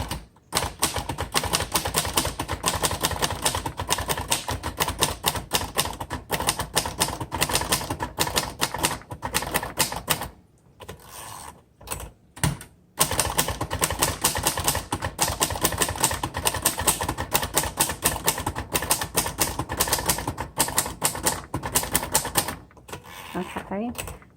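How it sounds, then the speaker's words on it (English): Rapid, steady keystrokes on a 1960 Royal Heritage manual typewriter, loud and close, with dense clacking runs broken by a couple of brief pauses and carriage sounds before typing resumes. "So I'm going to type some of this over again."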